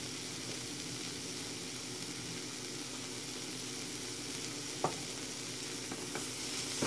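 Onions and peppers fry in a small amount of oil in a pan, giving a steady, even sizzle throughout with a couple of brief utensil knocks near the end, and no talking.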